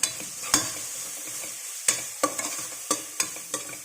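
Spinach rice with masala and chili powder being stirred in an oil-coated pan, a utensil scraping repeatedly with sharp clinks at an irregular rhythm over a steady, close sizzle; no voices.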